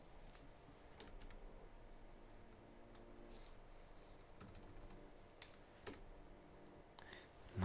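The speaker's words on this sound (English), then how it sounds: "as I'm trying to type things, I'm typing the wrong ones because I'm not directly in front of it" Quiet, irregular clicking of someone typing on a computer keyboard set off to one side, keystrokes coming in short uneven bursts with pauses, faint and close.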